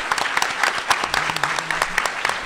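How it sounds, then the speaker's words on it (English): Applause from a convention panel crowd, a full, steady round of many hands clapping with distinct sharp claps throughout and a faint cheer underneath. "One more big round of applause for these amazing performers, the animators, Carmichael."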